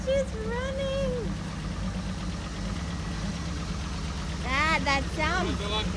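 A restored 1965 GMC Handi-bus engine runs steadily at idle with a low, continuous mechanical rumble, while several people talk and voice excited chatter over it.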